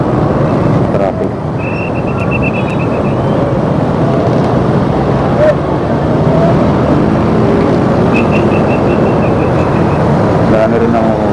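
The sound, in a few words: city road traffic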